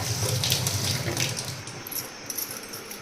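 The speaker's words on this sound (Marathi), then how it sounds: "स्वच्छ धुवून घ्यायचं." Tap water runs into a sink while a tea strainer is rinsed clean, a steady splashing hiss with light clinks of the utensil, busiest at the start and thinning toward the end.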